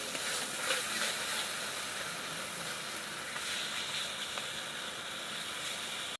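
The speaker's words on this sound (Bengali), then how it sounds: "এবার আমি চিনির সাথে মশলাটাকে কষিয়ে নেব।" Spice paste and sugar fry in a pan for a Bengali potato-and-prawn dorma, giving a steady, broad hiss and sizzle throughout with no talking.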